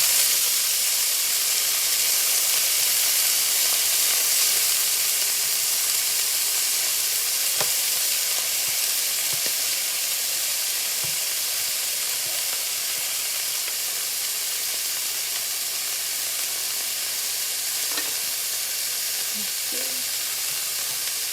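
Broccoli sizzles loudly in a frying pan with a dense, constant hiss, broken by occasional soft knocks and scrapes of stirring. No one speaks.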